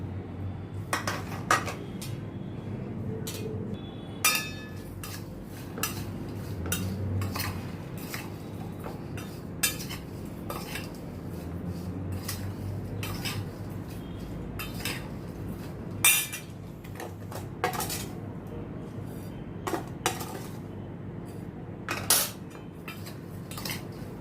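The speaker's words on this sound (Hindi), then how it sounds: "अभी इस मसालों को इसमें थोड़ा थोड़ा डाल के मैं मिक्स करती हूँ" A spoon stirs spices into green chilli pickle in a metal bowl, giving steady scraping and frequent sharp clinks against the rim over a low background hum, with no talking.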